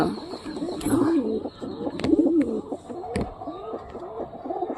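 Pigeons in a breeding loft coo repeatedly in close, rhythmic rolling phrases, with a few sharp knocks and rustles between the calls; no one speaks.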